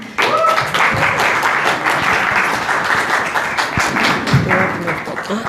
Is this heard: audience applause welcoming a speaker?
yes